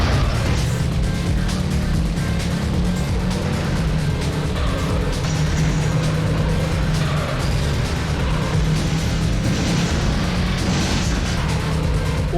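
Loud, continuous game car engines roar throughout in a demolition-derby racing video game, with crunching impacts and tire skids mixed in, a dense and busy soundscape.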